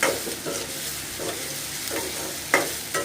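Onions fry in a pan with a steady close sizzle, punctuated by several sharp spoon scrapes and stirs at irregular intervals, no voices.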